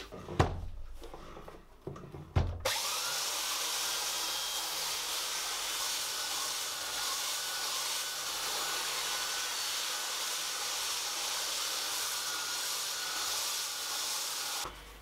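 An orbital or belt sander working a thin ukulele wood plate: a few knocks and handling clatters, then a loud, steady broadband whir that runs alone without a break to the end.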